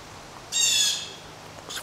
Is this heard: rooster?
no